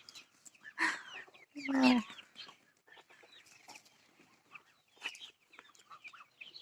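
Chickens cluck in a few short bursts, fairly close, with quieter scattered clucks between them, in a village farmyard alongside larger poultry.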